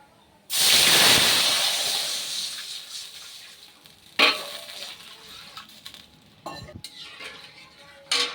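Water poured into hot fried spice tempering for mango chutney bursts into a loud, sudden hiss that slowly fades, followed by a few clinks and stirs of a utensil against the pan.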